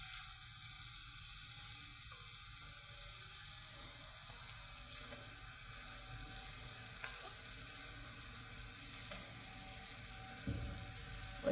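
Food sizzles and is stirred in an iron pan, giving a steady, soft frying hiss with light scraping throughout and a brief clatter near the end, with no voices.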